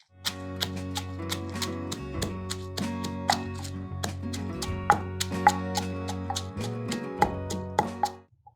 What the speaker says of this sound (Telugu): అది ముందు రోట్లో వేసి దంచేద్దాం